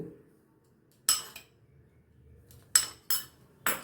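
A spoon clinks against a bowl while mixing semolina into a breakfast batter, giving a few sharp, close metallic taps spaced apart over a quiet background.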